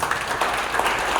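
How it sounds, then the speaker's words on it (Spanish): A church congregation applauds, a soft, fairly distant patter of clapping that holds steady across the short stretch. "Déle ese aplauso a Jesús"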